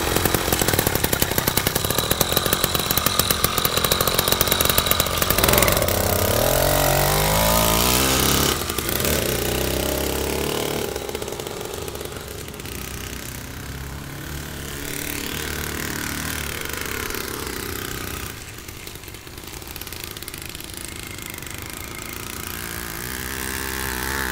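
Motorized bicycle with a jackshaft kit: a small two-stroke engine buzzes loud and steady throughout a ride, its pitch shifting and sweeping as throttle changes, with wind rush over the top.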